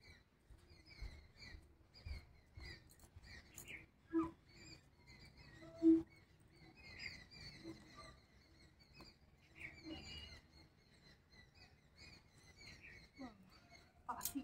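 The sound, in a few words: birds chirping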